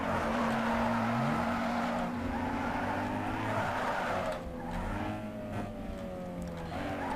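Race car in Need for Speed Underground 2 drifting, its engine droning loudly and steadily as tires squeal and skid through the turn, with rising and falling revs throughout.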